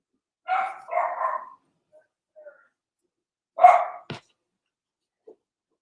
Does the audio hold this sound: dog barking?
yes